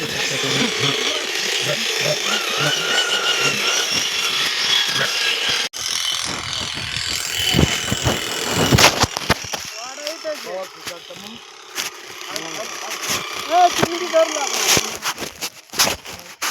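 An electric sheep-shearing machine buzzes and chatters steadily while shearing sheep, its motor pitch shifting as it works, with people talking intermittently over it.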